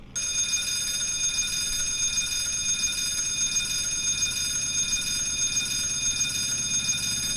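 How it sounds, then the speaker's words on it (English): The fire warning bell of a DC-6 in a flight simulator game rings continuously with a loud, rapid metallic trill, starting abruptly and sustained without pause. "What we can do is check on our fire detection stuff. These are the various bells."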